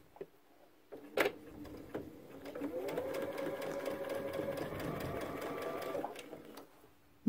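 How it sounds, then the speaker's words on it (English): A sewing machine stitches an elastic casing on a backpack, with 5/8 inch elastic already inside. A few handling clicks come first, then a steady, fairly close whirring run of several seconds that stops abruptly. "I don't want to sew on the elastic at all. I just want to create a casing for it."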